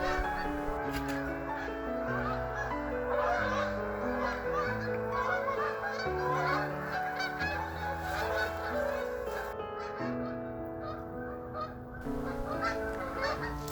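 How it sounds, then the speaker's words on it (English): Migrating Canada geese honking in a dense, overlapping chorus of repeated calls, fairly near and sustained. "Canada geese migrating."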